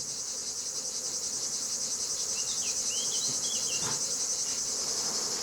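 Insects buzzing and whirring steadily around about thirty beehives beside a lavender field in the Luberon during summer harvest, a dense continuous outdoor hum with a few nearer passes.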